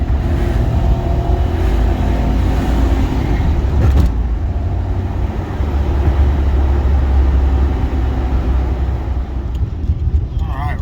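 A Honda Acty van with fender flares and mismatched tires on its first test drive: a steady, loud cabin drone of engine and road noise that holds through the whole stretch, with a brief clunk near the start.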